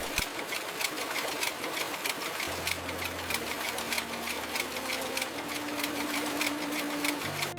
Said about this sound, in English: Automated looms weave yarn into fabric.